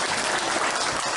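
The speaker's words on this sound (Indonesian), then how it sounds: "Tepuk tangan untuk Kang Hendri." Dense, steady crowd applause from an audience at a gathering fills the whole short moment, with no speech over it.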